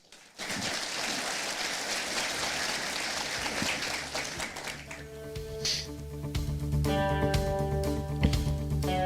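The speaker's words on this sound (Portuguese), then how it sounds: "ao qual eu pediria uma salva de palmas" An audience at the opening session of a national conference applauds the Brazilian Senate president, dense clapping starting abruptly and continuing throughout, while tonal music or chimes rise beneath it in the second half.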